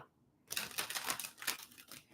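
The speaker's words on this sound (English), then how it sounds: "One more shuffle here, Nicole." A tarot deck is shuffled during a live psychic reading, making a quick, crisp run of papery clicks and flutters. It is close and quiet and lasts under two seconds after a brief silence.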